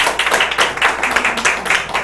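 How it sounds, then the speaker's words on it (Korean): Audience applause in a church gathering as a guest speaker comes forward, a dense burst of many hands clapping, fairly loud and steady with rhythmic surges, heard alone without talk. "여러분 화려한 박수를"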